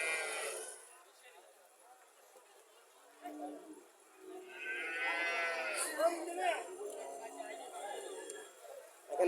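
At a Comilla cattle market selling Jersey and Haryana dairy cows, a cow lets out a long, drawn-out moo amid market chatter and nearby voices, with a faint earlier call at the start.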